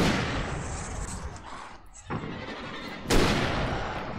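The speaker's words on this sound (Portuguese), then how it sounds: "Ah, eu errei esse tiro, velho." Gunfire in Alan Wake booms loudly through a dense wash of noise, with a sharp blast near the end.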